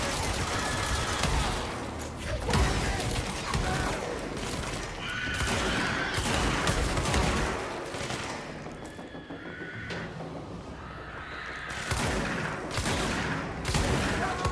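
Sustained gunfire in the video game Control, with rapid, overlapping shots rattling on for the whole stretch and brief lulls between bursts, loud and dense throughout.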